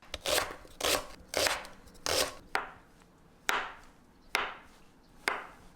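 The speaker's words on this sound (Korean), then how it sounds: "쓱쓱 두부 써는 소리." A knife slices tofu down onto a cutting board in eight crisp strokes, first in quick pairs and then slower and spaced out, with no voices.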